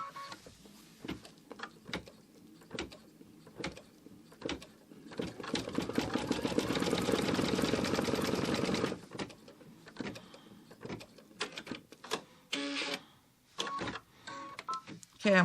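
A Kimberbell machine embroidery design stitches out on a sewing machine: rapid, irregular mechanical clatter and whirring bursts that swell into a steady run mid-way, close up and moderately quiet.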